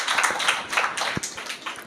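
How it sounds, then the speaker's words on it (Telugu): Church congregation clapping their hands together in a steady run of claps, a dense patter of hand strikes close by with no voices over it. "గట్టిగా చప్పట్లు పడదాము."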